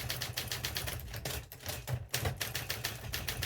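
An Imperial typewriter, a rebadged German Adler, types in a quick run of crisp mechanical key strikes, close and fairly quiet with a brief pause in the middle.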